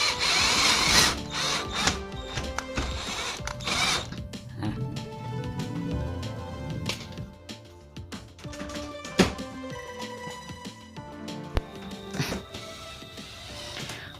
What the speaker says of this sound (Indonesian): Lalu kita bor semua ya teman-teman.